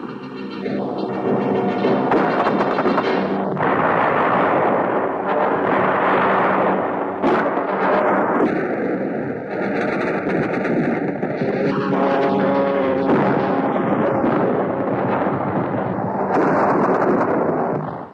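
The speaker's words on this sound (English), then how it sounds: "Communist fire comes from everywhere." A Vietnam War battle roars with heavy artillery and gunfire: continuous loud booms and rumbling blasts stacked tightly together with no pauses. No one speaks.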